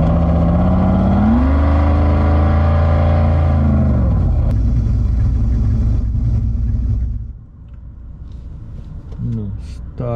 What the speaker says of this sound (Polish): a jeszcze możemy posłuchać naszego wyścigowego silnika